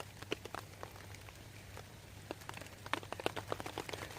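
Rain falling on a tent during a late-summer wild camp, heard as scattered soft taps and patters of drops that thicken toward the end, over a faint steady low hum.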